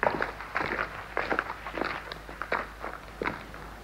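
Footsteps crunch across the ground of an ancient ruined square, a steady walking rhythm of gritty, close steps over a low background rumble.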